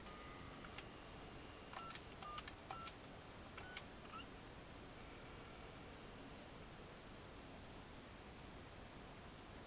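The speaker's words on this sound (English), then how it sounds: "Oh, I dialed the wrong number." Touch-tone DTMF dialing beeps on a telephone line with call waiting: a quick series of short, faint tones over steady hiss, then only hiss.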